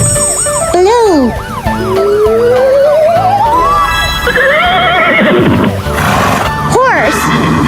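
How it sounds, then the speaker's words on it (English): A horse neighs and whinnies loudly among bright siren-like tones and music in a children's toy animal-learning setting, with a voice calling out briefly. "Horse."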